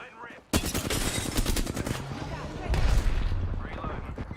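Sustained rapid automatic gunfire from a video game battle royale match, loud bursts beginning abruptly after a brief pause and continuing densely throughout, with game voice lines mixed in.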